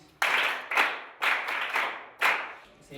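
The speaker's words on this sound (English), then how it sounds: "Clap for her, please." An audience claps in five separate loud bursts, each about half a second long, with short quiet gaps between them.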